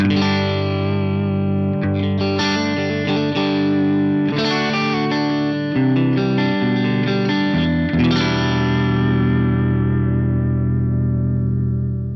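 Electric guitar played through a compressor pedal on a Headrush looper, with a compressed, evened-out tone, sustained chords and notes ringing steadily at a consistent loud level, with a long fading tail at the end.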